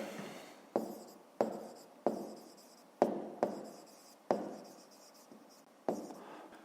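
Pen strokes scratch across paper while someone writes out a fifth-grade maths exercise, each short burst of writing starting with a sharp tap and trailing off, repeated about eight times at close range with no talk.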